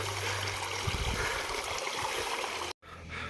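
Water runs steadily in a mountain stream on a hillside path, a continuous close rushing and gurgling that cuts out briefly near the end.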